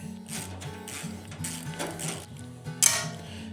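A ratchet driving a universal joint turns bolts on a Ventrac 4520 during an oil change, giving a steady close run of rapid mechanical clicking with a brief sharper rattle near the end.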